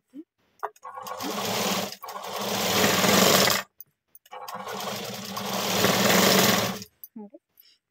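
A sewing machine stitching the square neck of a blouse runs in two sustained bursts of about two and three seconds, close and even, separated by a pause with faint handling noise.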